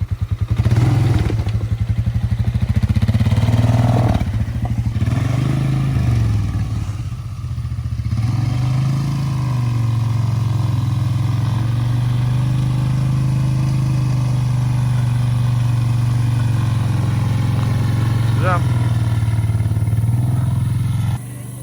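A Polaris Scrambler 500 ATV engine runs steadily close by as a child rides it slowly, with a continuous low drone that rises and dips slightly, plus occasional clatter and no clear speech.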